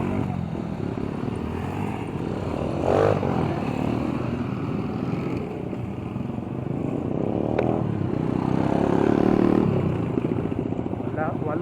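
A group of eight motorcycles, two of them lowered, rides along a newly opened road with a continuous loud engine drone. Engine surges swell and fade as they pass.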